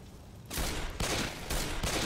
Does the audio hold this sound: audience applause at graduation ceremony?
no